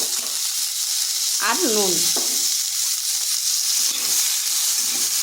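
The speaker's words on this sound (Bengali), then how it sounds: "কুঁদরিটা খুব বেশি ভাজবো না," Ivy gourd (kundri) with a little turmeric fries in a pan, giving a loud, constant sizzle while it is stirred. A short spoken phrase briefly rises over the frying.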